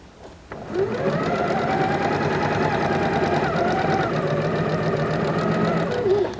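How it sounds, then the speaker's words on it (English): A sewing machine runs steadily while stitching quilt blocks, a continuous mechanical whir for about six seconds after a short quiet start, close and fairly loud with no talking. "So let's go ahead and sew this."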